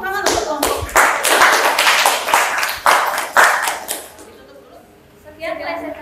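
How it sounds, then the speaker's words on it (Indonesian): A classroom group claps for a presenting team during a teacher-training session, several bursts of hand claps with voices talking over them, fading out before speech resumes near the end. "Tepuk tangan untuk kelompok."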